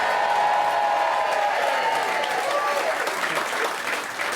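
A studio audience cheers and applauds loudly and steadily at a game-show style vote, a dense wash of clapping and shouting that holds for several seconds and eases slightly toward the end.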